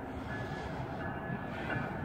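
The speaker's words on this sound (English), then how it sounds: "A freight train going by." A freight train passes near Pueblo Grande in Phoenix, a steady loud rumble of rolling wagons with faint wheel squeal, continuous and without talk.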